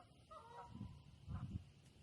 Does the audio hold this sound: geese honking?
yes